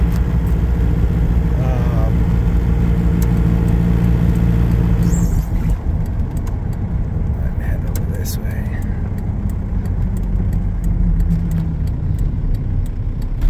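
A 1991 Toyota pickup with a swapped-in TDI diesel engine rumbles low and steady from inside the cab as it drives, with a person talking over it.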